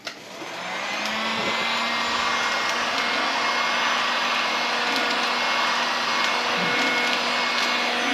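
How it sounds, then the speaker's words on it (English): A heat gun blows steadily and loudly on a sublimation glass bottle wrapped in shrink sleeve, a constant airy roar with motor hum that starts abruptly and holds without a break. "Get your heat gun."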